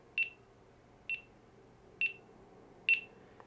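Four short, clear electronic beeps from a GoPro HERO 12 camera, evenly spaced about a second apart, moderately loud against a quiet background with no talking.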